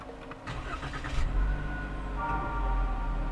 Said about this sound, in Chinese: 引擎已经启动了，但是它还是非常非常的安静。